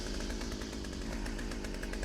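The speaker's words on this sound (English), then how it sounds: "Overshadowed slightly by the noise of the revving chainsaw nearby" A chainsaw revs close by, a steady buzzing engine whine with a rough rumble that holds loud and continuous without a break and with no voices.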